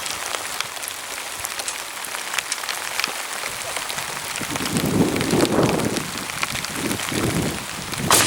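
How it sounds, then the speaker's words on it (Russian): Heavy rain falls in large drops outdoors at a rifle shooting range, a dense, steady patter that grows louder and thicker midway through, with no voices over it. "дождь уже такими большими прям каплями"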